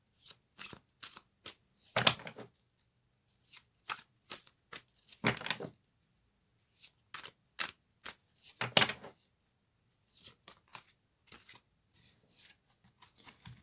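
Fairy tarot cards being shuffled by hand in repeated quick riffling bursts with short pauses between them, close and crisp, and no talking.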